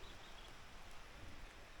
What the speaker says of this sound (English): Right now rain a fall, you know.